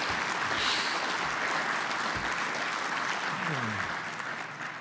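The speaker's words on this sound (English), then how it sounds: "We don't pause for the applause" Applause from a keynote audience at a conference, a broad steady wash of clapping that fades slightly toward the end while a voice speaks briefly over it.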